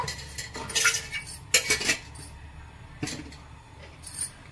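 A metal ladle clinks and scrapes against a heated cooking pot several times while oil is spooned in, in short separate bursts of bright metallic knocks with quiet gaps between them.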